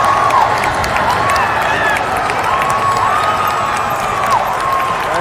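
A high school ice hockey crowd at Elkhorn South versus Creighton Prep cheers loudly after a goal, a dense sustained roar with shouts and whistles throughout, no announcer talk.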